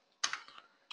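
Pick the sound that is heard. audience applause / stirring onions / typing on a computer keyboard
typing on a computer keyboard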